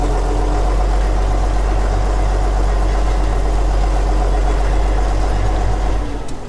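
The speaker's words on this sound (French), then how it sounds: "Il est bizarre, ce tracteur. Je vais te le sortir." Farm tractor engine idling close by, a loud steady low rumble with a constant mechanical drone that drops off abruptly near the end; no one talks.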